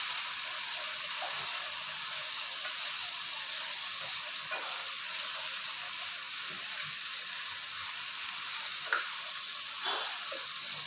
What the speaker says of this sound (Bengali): প্রনগুলো একটু নেড়ে নেবো।